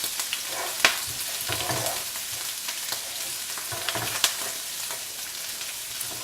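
Spices being stirred and toasted in a hot pan while cooking a Hyderabad-style dish: a steady close sizzle with scattered scraping clicks from the spoon, no talk.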